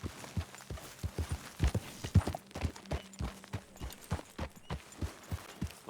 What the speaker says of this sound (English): Well, Arthur, get that horse out of here.